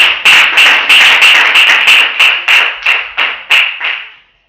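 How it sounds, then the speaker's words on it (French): Church congregation clapping for Jesus during a bilingual sermon, loud and close, with about a dozen sharp, roughly evenly spaced claps that fade toward the end, plus a bright ringing tone beneath them. "Clap for Jesus."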